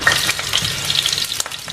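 Potatoes frying in hot sunflower oil, a steady close sizzle with crackling pops and some stirring scrapes, loud and continuous with no voices.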